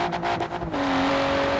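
A Volvo V60 T6 engine in Forza Horizon 4 revs hard with a loud, continuous drone, dropping to a steadier sustained tone partway through, with a brief tire-squeal edge.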